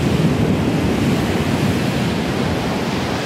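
Strong wind buffets the microphone by the ocean at a Cabo beach, with steady surf crashing beneath it; a loud, continuous roar with no speech.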